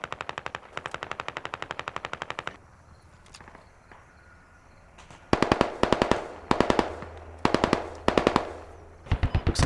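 Automatic gunfire in a first-person shooter video game: rapid bursts of close, loud machine-gun shots, a long burst, a brief lull, then several repeated bursts, with no voices.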